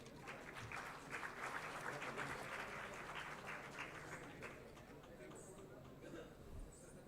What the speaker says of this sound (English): Let us give the team of Great Eastern Maritime Studies another well-deserved round of applause